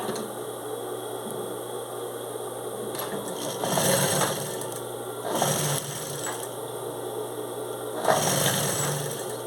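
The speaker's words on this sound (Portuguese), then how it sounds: "aqui eu vou começar a costura" A domestic sewing machine stitches fabric in short bursts, its rapid mechanical clatter rising and falling as it starts and stops between quieter pauses with a steady background hum.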